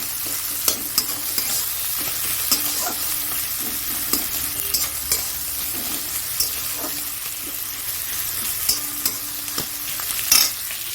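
Dry red chili, bay leaf and white cumin frying in hot oil, a steady close crackling sizzle with scattered sharp pops and the scrape of stirring throughout, no talking.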